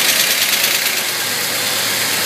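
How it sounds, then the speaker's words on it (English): A 1971 Dodge Challenger with a manual gearbox and EZ-EFI self-tuning fuel injection idles cold right after starting. The engine note is a steady, loud, close rumble with no pauses and no voices. "I'm just going to short the starter solenoid to start it"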